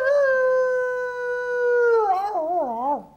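A man imitates a wolf's howl, holding a long, steady, tonal wail that breaks into a wavering, quavering finish near the end, loud and close with no other voices.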